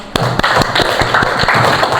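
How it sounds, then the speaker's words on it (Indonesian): A school class clapping hands together in a classroom: a quick, close, regular run of sharp claps at a brisk even tempo, loud and in unison. "Tepuk tangan dong."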